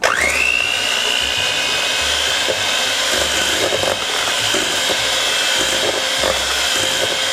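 Electric stand or hand mixer whirring steadily as it creams butter with firmly packed light brown sugar, a continuous close motor hum with a brief rising spin-up at the start and no talking.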